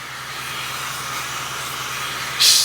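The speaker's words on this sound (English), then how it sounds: "So we just get the steam going." Steady hiss of a steam iron giving off steam over a creased leather shoe, continuous and even, with a brief louder burst of hissing at the end.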